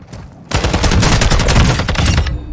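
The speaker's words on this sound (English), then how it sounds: "Someone shot at me while I was doing that." Sustained automatic gunfire in Warzone 2 erupts after a brief quiet moment, a loud dense burst of rapid overlapping shots running for about two seconds with no talking.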